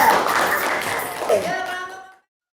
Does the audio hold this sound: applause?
yes